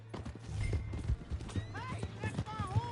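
Hooves clip-clopping as a horse gallops off in Red Dead Redemption 2, steady hoofbeats and a neigh under background music and voices.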